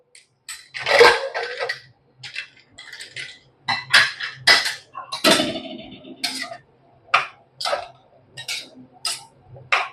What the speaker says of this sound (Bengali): এবার আমি প্রেসার কুকারটাকে খুলে নেবো